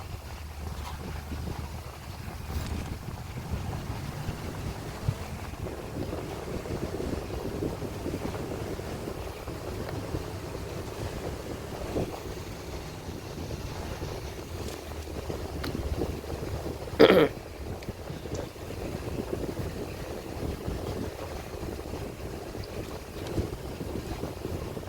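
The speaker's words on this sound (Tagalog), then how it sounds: "Na-start ko naman yung motor man eh" A boat motor in a video game drones steadily beneath wind-like rushing and water noise, with one sharp burst near the end.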